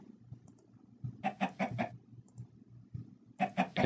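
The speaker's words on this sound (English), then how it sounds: "And I wonder if we can catch that chicken before it gets dark." A Minecraft chicken gives two short bursts of clucking over a low, steady ambient drone, each burst a quick cluster of close, clear clucks.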